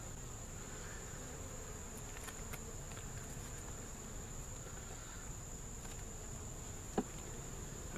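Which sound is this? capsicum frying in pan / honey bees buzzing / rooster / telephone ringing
honey bees buzzing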